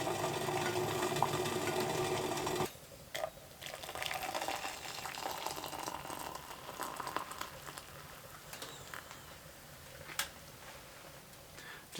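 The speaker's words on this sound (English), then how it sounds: "I got some water on for some tea" Water heats for tea on a stove inside a hot tent, a loud steady rushing roar that stops abruptly, leaving quieter low bubbling and scattered small knocks.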